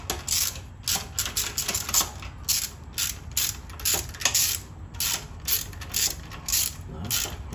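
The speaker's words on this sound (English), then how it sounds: "Let me use the hand ratchet first." A hand ratchet works a 7/32 Allen bolt on a Holley mid-mount accessory drive in an LS-swapped G-body car, producing close, crisp bursts of ratcheting clicks in repeated strokes with short pauses between them.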